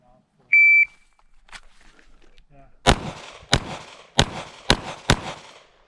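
Five sharp pistol shots crack out in quick succession during an action pistol shooting match, preceded by a brief electronic start beep, loud and close with short echoing tails.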